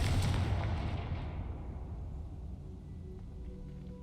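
A Confringo fire spell in the Hogwarts Legacy video game goes off as a deep, booming blast that rolls away into a fading rumble over several seconds.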